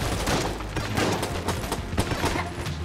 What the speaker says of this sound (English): I love that gun sound.